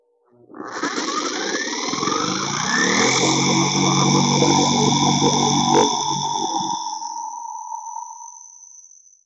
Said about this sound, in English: let's see if I can cut the tailpiece with a jigsaw